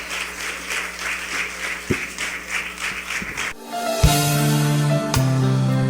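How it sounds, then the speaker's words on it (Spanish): Church congregation clapping steadily for several seconds, dense applause that gives way abruptly to sustained organ-like musical tones with a sharp chord hit. "Aplauso de alabanza, de gozo para el Señor."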